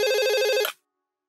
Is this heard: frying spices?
no